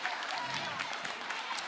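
Audience clapping at a secondary school event, a dense, steady wash of many hands applauding together, close and continuous with no pause.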